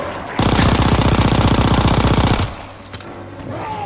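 Loud, rapid automatic gunfire from enemies in a video game, a dense burst of shots lasting about two seconds before cutting off into quieter background sound.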